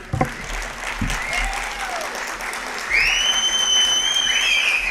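A crowd claps steadily throughout at a film event, with a sharp, sustained whistle piercing through the applause in the second half.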